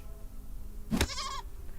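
A single goat in the adventure game Deponia Doomsday gives one short wavering bleat, loud and close, rising out of a background music bed.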